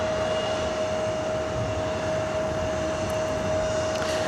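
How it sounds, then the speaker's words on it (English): A Delta Connection SkyWest Embraer E175 jet at LAX gives off a steady engine roar with a sustained high whine, loud and unbroken, with no voices. "This is Delta Connection, SkyWest, flight 3759, heading to Sacramento. This E175 LR."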